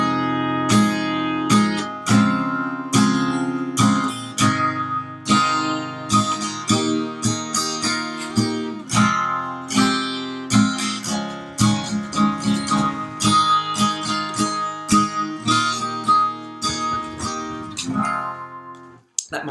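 A single acoustic guitar strums the chords of a song with suspended-chord embellishments, playing steady rhythmic strokes that ring clearly for about twenty seconds with no voice.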